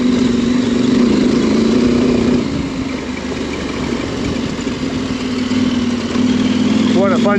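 An adventure motorcycle engine idles steadily and close by, a continuous low throbbing hum with a slight change in tone midway and a brief chirp near the end.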